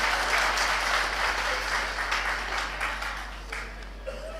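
An audience at a political speech gives a sustained, dense round of applause. It stays steady and loud, then tapers slightly, and a low electrical hum runs underneath.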